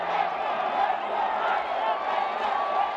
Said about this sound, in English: And the crowd goes ballistic as Jackson Eliakim finds the net